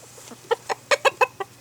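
Aggressive rooster giving a run of about six sharp, rising clucks as someone walks toward it in a garden chicken yard, fairly close and alone with no talk.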